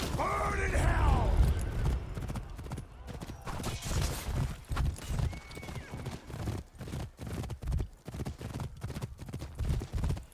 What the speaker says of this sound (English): This is the one time you see horses in this game.